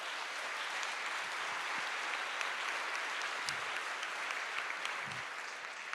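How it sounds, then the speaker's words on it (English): Steady applause from an audience at a faith conference charity auction, a dense even wash of many hands clapping at moderate level for the full stretch, with no voices on top. "Everybody give Matt a round of applause."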